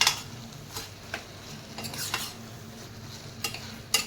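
Green peas tipped into potatoes roasting in a pan for a dhaba-style aloo matar, then stirred with a spoon: a few sharp scraping clinks against the metal over a low, steady background with a faint sizzle.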